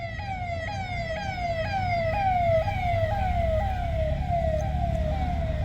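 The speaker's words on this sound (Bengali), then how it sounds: "একটু জোরে বলতে হচ্ছে, দাঁড়ান অ্যাম্বুলেন্সটা চলে যাক" An ambulance siren wails past on a road near Diamond Harbour, its repeating falling sweeps loud and close over the rumble of traffic, lasting the whole stretch with no talk.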